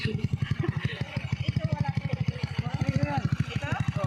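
A motorcycle engine runs at a steady chugging idle with a fast, regular pulse while a beginner practices riding with a sibling's help, and people talk over it throughout.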